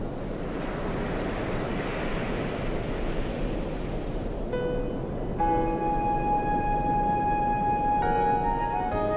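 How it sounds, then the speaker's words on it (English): North Sea surf breaking against the dunes of Jutland near Skagen, a loud continuous wash of waves and wind, joined partway through by sustained musical tones. "The North Sea rages. The foaming waves gnaw at Jutland's dunes."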